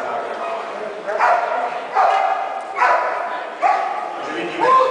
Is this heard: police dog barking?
yes